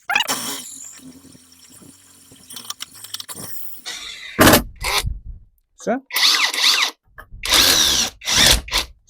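A Grosser GID 230N cordless impact driver bores into thick metal, its motor whirring in several loud, close bursts with gritty grinding, following a stretch of quieter handling noise with someone speaking.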